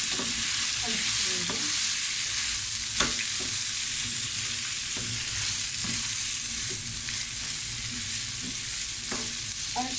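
Wooden spoon stirring toasted vermicelli and rice in a pan for pilaf, with strawberries just added, scraping steadily with light sizzling and soft clacks throughout, no talking.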